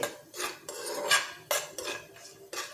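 Cashews and almonds being fried in a pan, heard as a spoon scraping and clinking against the metal in several brisk, uneven strokes, close up, with no talking.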